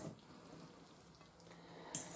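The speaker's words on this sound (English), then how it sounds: "I'm just going to stir this up." A fork stirs food in a full bowl with soft, continuous scraping and mushy squelching, faint and close, ending in a brief louder clink, with no talk.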